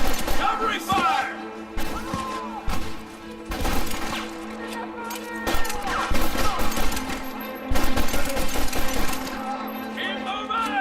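Gunfire erupts during a shootout in Red Dead Redemption, with sharp shots cracking out in bursts and pauses, layered over a tense musical score and brief shouted voices.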